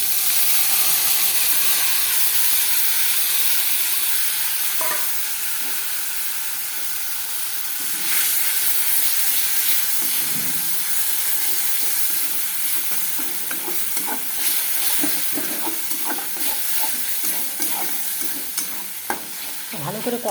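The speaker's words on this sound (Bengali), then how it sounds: "ভালো করে কষাবো এখন।" Spices with black cumin sizzle steadily in a hot pan while being stirred and scraped, giving a loud, continuous frying hiss with intermittent stirring clatter and no talk.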